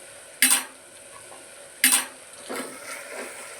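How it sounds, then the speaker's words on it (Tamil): A spoon stirs chilli powder, garam masala and coriander powder into tomato rice in a pot, giving two sharp scraping clanks against the metal about a second and a half apart, then softer shuffling. "எல்லாத்தையும் போட்டு நல்லா மிக்ஸ் பண்ணிக்கோங்க."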